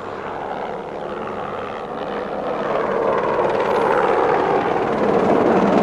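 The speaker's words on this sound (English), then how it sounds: "watch a helicopter carry away a donkey" A helicopter's steady rotor thrum and engine roar, loud and close, building slightly in intensity with no other sounds.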